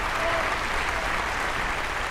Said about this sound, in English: People applaud to the show.